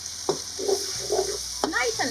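A pot of curry with slightly overripe mango bubbles and sizzles steadily, with a couple of short stirring scrapes, close and moderately loud over about two seconds.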